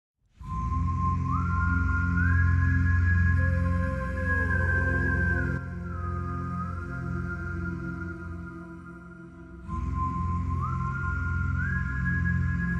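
A clear whistled melody of long, sliding held notes over a low sustained backing, pausing briefly before the tune resumes.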